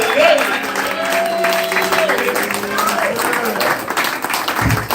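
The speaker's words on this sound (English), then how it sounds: "Clap it up for Ryan Oliphant" An audience at a comedy show claps and cheers steadily through the whole moment while a voice talks loudly over the noise.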